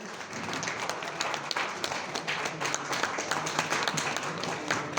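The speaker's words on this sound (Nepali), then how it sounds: "म जोरदार तालीले स्वागत गरिदिनको लागि अनुरोध गरेँ" Hospitality training participants from hotels and restaurants nationwide are welcomed with applause: dense, continuous clapping from a sizeable indoor audience, fairly even in loudness throughout.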